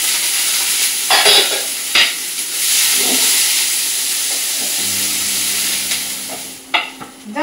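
Ginger, green chilli and onion go into hot oil with cumin and fry with a loud, continuous sizzle and hiss, broken by a few sharp stirring clatters near the start and end.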